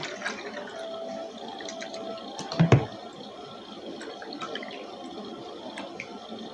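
Water is poured into a measuring container to fill a compressed can, a faint steady trickle with a brief louder splash partway through.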